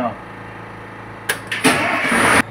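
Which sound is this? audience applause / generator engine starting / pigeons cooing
generator engine starting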